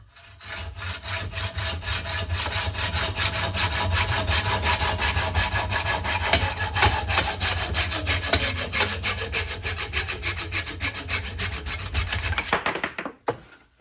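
A hand saw cuts through the steerer tube of a bicycle fork on a Specialized Tarmac SL8 build. Fast, steady rasping strokes sound close and loud for about twelve seconds before stopping abruptly.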